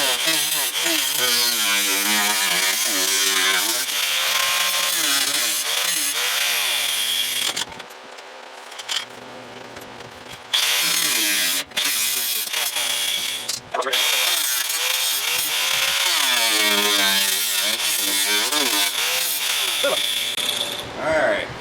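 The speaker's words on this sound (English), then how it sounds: "let me change my wheel on my grinder and we'll cut that off" An angle grinder cutting off metal, a loud harsh whine with shifting pitch that drops out briefly in the middle before resuming, close by and continuous.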